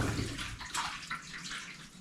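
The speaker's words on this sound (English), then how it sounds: "I'm just going to let the water run out into my floor drain down here" Water pouring and splashing out of a GE washing machine that won't drain or spin, running onto a carpeted floor toward a floor drain; a steady, close rushing gurgle with no talk.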